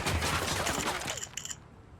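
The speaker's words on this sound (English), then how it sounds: "Opening fire." Gunfire in Ghost Recon Wildlands: a dense burst of rapid automatic shots, loud and sustained for about a second, then a few scattered shots trailing off into quieter background.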